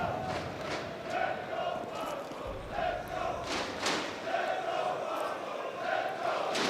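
An esports arena crowd at the IEM Katowice 2024 Counter-Strike semifinal chants in steady rhythmic bursts, a large hall of voices rising and falling together with continuous ambient crowd noise throughout.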